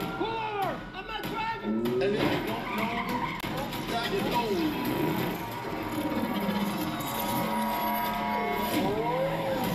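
A car skids through a 360-degree spin in a Transformers: Rise of the Beasts trailer, with a loud tire screech and engine roar over dramatic music and people talking.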